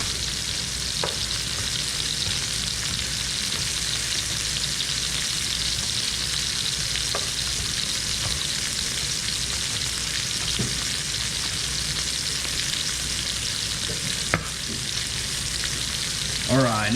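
Chicken pieces fry in a hot pan with a loud, even sizzle that hisses on steadily from start to finish, broken only by a few sharp clicks near the end.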